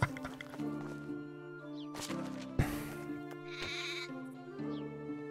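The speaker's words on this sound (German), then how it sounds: "Dass es hier dauernd irgendwas blökt." Sheep bleat repeatedly in the medieval farming game Medieval Dynasty, several loud, wavering calls overlapping one another against a steady low background hum, with a sharp knock near the middle.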